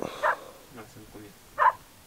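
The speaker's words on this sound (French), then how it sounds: "Des chiens, des rennes, tout qui court en même temps." Dogs barking out in the taiga, with reindeer running about at the same time: two short barks, one near the start and one at the end, with soft human voices between them.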